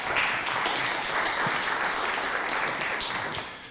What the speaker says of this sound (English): Round of applause for all of our year-long partners.